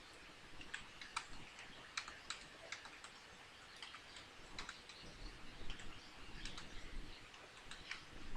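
Quiet, close keystrokes on a computer keyboard while text is typed into CorelDRAW, irregular taps in short runs with faint background ambience.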